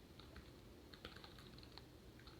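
Quick, light key clicks from the keyboard of a One Mix 3 Yoga mini laptop with an 8.4-inch screen, in an irregular typing rhythm of closely spaced taps, fairly faint and close with no talk.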